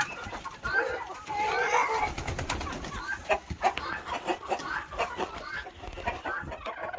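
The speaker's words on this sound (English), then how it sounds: "A lot of chickens in here." A flock of chickens in a barn converted into a coop clucks and murmurs busily, with overlapping hen calls and scratchy movement close by, filling the space continuously.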